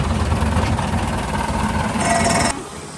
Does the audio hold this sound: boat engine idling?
yes